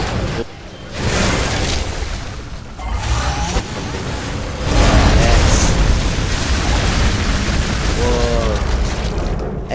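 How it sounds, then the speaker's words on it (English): Explosions in the Gears of War 3 bridge level, loud booming blasts and rolling debris rumble filling the clip, with game noise and brief voices mixed in. "Something that explodes."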